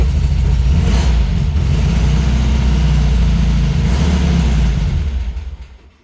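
A vintage Volkswagen Speedster engine idles loudly and close with a steady low rumble, the hard-starting car running smoothly for several seconds before the sound fades at the end, with no talk.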